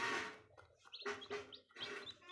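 A black-breed mother hen with her five newly hatched chicks makes faint, close sounds: soft clucks mixed with repeated high chirps and peeps in uneven bursts, with no talking.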